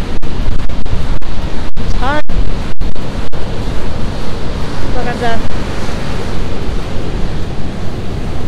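Big ocean waves crashing on the California coast along Highway 1, a loud, continuous roaring surf with heavy wind buffeting the microphone, while someone speaks briefly over it.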